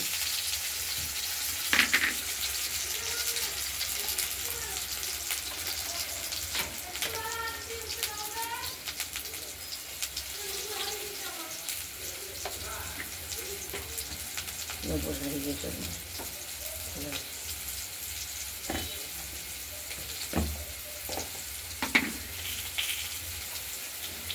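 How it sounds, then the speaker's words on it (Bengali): Potatoes fry in oil with a cumin tempering, giving a continuous soft sizzle. Pigeons or doves coo and other birds call in the background, and there are occasional clinks and faint voice-like sounds. "আলুগুলোকে আমরা ভেজে নিচ্ছি।"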